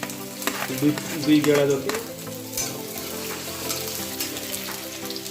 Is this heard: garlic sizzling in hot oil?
yes